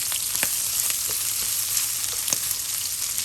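Pork belly fries in a dry pot without added oil, rendering its own fat. A steady, close sizzle carries on throughout, dotted with small pops and spatters.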